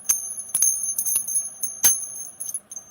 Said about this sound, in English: So we have a gorgeous little chime. It sounds like a bell.